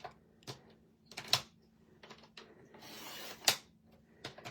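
A paper trimmer slices a very thin sliver off the edge of cardstock, with soft mechanical clicks of the blade carriage and one short rasping swipe of the cut, close and fairly quiet.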